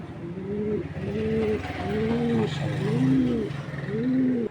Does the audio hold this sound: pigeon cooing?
yes